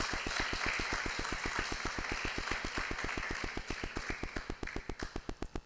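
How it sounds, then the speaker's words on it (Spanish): A church congregation gives rhythmic unison clapping, about seven beats per second, over a wash of crowd noise, steady before thinning toward the end. "Dale un aplauso al Señor de agradecimiento por eso."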